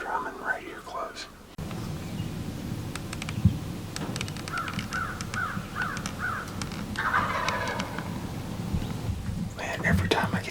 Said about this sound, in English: I'm pretty confident I've got a bird drumming right outside the blind right now